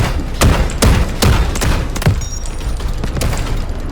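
Loud, close gunfire in the shooter video game Delta Force, a rapid series of sharp shots in uneven bursts over a few seconds, with no talking.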